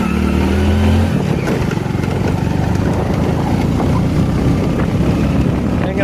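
A motorbike climbs a winding, tree-lined hill road near Bhinmal, Rajasthan, its steady engine drone heavily buffeted by loud wind rushing over the microphone.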